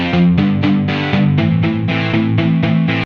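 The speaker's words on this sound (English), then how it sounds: "I'm going to do electric distortion." An AeroBand smart guitar set to an electric distortion tone plays a steady run of loud, sustained chords, each one restruck in a regular rhythm, close and alone with no voices.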